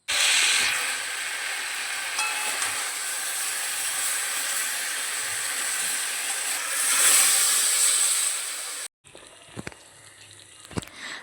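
Malabar spinach stalks with shrimp, pumpkin and potato simmering in a pot after a little water is added, giving a steady loud hiss and sizzle that swells briefly, then cuts off into quieter clatter near the end.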